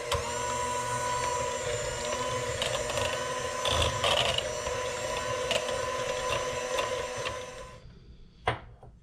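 A KitchenAid stand mixer churns peanut butter Oreo cheesecake filling, a steady close motor hum with rhythmic whirring and faint clicks that runs for about eight seconds before stopping with a brief clunk.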